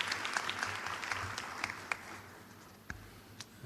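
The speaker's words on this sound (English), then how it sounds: "Please welcome him with a big round of applause." Moderate audience applause at a university research paper competition ceremony, a steady patter of clapping that thins out toward the end with a few louder claps.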